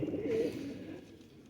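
A single short, throaty coo from a lakha pigeon with a neck band, close and fairly clear, fading out quickly.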